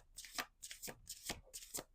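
Oracle cards are shuffled in four quick riffling bursts, close and crisp, with short pauses between them and no talking.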